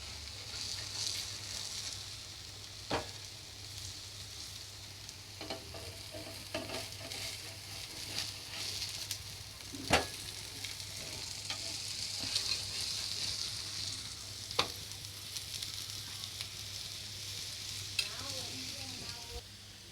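Ragi adai sizzles steadily on a hot pan over a medium flame after being flipped, a continuous crackling fry with a few sharp clicks and utensil taps, close and moderately loud with no talking.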